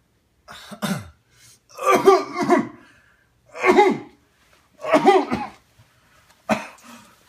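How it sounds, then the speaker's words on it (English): Repeated fits of hoarse coughing, several bursts spaced a second or so apart, close and fairly loud with silence between them. "I just really can't stop coughing"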